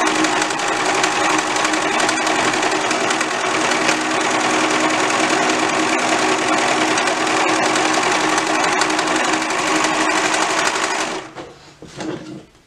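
A sewing machine runs steadily for about eleven seconds stitching yokes onto a Love Notions Tessa dress, a dense even whir close by, then stops and leaves a few faint handling clicks.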